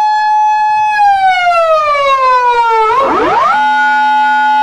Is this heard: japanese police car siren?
yes